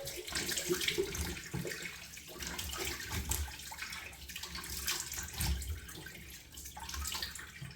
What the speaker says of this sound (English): I'm going to rinse it with warm water.